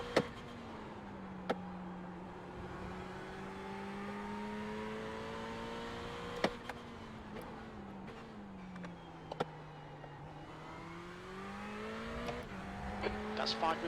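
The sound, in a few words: Ferrari 488 GT3 hard braking at the corkscrew in video game iRacing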